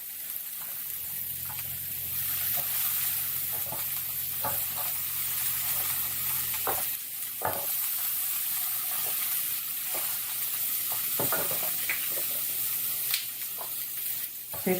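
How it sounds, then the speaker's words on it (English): Asparagus sizzles on a grill with a continuous hissing crackle, joined by occasional sharper pops and scrapes, close and moderately loud. "I love grilled asparagus."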